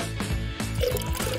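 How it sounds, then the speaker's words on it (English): Liquid gypsum pours into a small craft mold with a continuous close, thick gurgling and splashing flow, brief and alone with no voices. "Pour some gypsum into the shape we've made."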